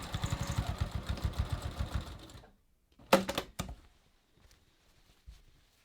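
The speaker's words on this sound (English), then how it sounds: "then just top stitch just below your original stitching, just to hold them flat" Sewing machine topstitching along a jeans seam: a rapid rhythmic chugging run of stitches for about two seconds, then a brief clack of handling and faint rustles, close and without talk.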